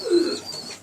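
A pure Kasuri pigeon gives a single soft, low coo, close and clear, lasting under a second.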